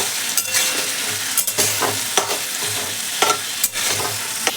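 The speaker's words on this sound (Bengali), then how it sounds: "কেটে রাখা আলুগুলোকে দিয়ে দিচ্ছি। এবার আমি দিয়ে দিয়েছি নুন আর হলুদ, আর এবার নাড়াবো একটু খুন্তি।" Cut potatoes frying in hot oil with salt and turmeric sizzle steadily up close, while a spatula stirs them with repeated scraping clicks against the pan.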